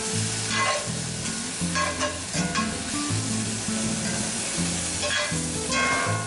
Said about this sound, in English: We're gonna add about a tablespoon of chives. Get those stirred around. And we're just gonna let those brown for a second.